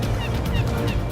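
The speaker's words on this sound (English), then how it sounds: "the seagulls" Seagulls crying over a boat at sea in World of Tanks Console, a few squawking calls layered over a steady low rumble of wind and water.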